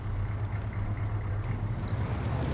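A car drives in the military video game Arma 3, a steady low engine rumble running throughout at a constant level with faint clicks on top.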